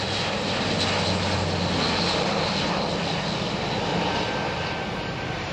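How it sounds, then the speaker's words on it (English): A Spanish Air Force Airbus A400M four-engine turboprop transport makes a flypast at an air show, its loud, steady propeller and engine roar filling the air without pause. "Here we see a Spanish Air Force A400M coming over from Zaragoza, where it is part of ALA 31."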